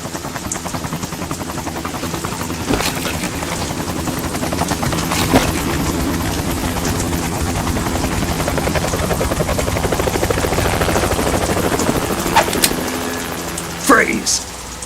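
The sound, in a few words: helicopter in video game Metal Gear Solid 2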